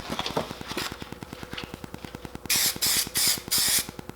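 Spray painting the body panels of a rolled Chevy Silverado, several loud hissing bursts of spray gun over a steady rapid mechanical clatter, close and without talk.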